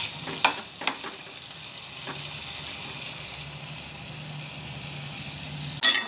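Sliced bitter gourd (karela) fries in a pan with a soft, steady sizzle, punctuated by a few sharp clinks of a utensil near the start and end.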